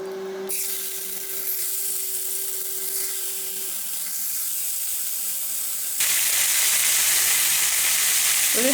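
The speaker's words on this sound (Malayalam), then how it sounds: "ഇപ്പോൾ നമ്മൾ പാനിലാണ് ചെയ്തെടുക്കുന്നത് അതുകൊണ്ടാണ് ഓയിൽ ഒഴിച്ചേക്കുന്നത്" Steady, loud sizzling of chicken frying in an oiled pan over high flame, a dense crackling hiss that grows louder partway through and continues without pause.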